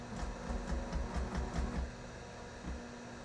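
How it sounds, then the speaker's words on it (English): A domestic sewing machine stitches fabric around a corner, a close, rapid mechanical run of needle strokes that pauses briefly midway and resumes for a short burst. "just keep stitching until you come all the way around"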